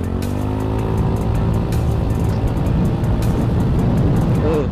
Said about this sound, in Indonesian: Coba kita gas di sininya dulu dikit ya.